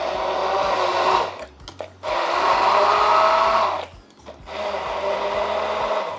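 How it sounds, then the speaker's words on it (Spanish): Blender blending rocoto peppers with vegetable oil, a loud whirring roar in three bursts separated by short pauses, close by with no talking. "Y esto lo licuamos."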